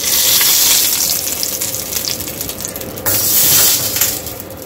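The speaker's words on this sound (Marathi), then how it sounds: "आता या चटणीमध्ये आपण ही फोडणी ओतून घ्यायची आहे" A hot tempering of mustard seeds, cumin and curry leaves is poured into a South Indian–style tomato chutney, giving a loud, steady sizzle that fills the whole stretch and surges again partway through, with no voices.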